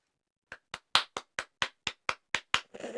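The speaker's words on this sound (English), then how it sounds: "Hopefully, the clapping sounded good on the mic." Ten sharp, close hand claps in a steady rhythm over a quiet background, followed by a short burst of noisy rustle at the end.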